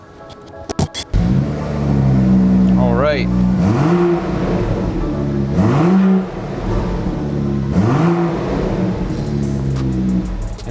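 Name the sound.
car engine starting and revving after fuel pump install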